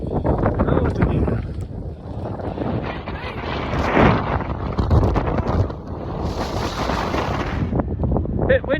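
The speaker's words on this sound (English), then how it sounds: "Bit windy again today." Steady wind on a mountain buffets the microphone in a constant rough rumble, with gusts swelling and easing throughout.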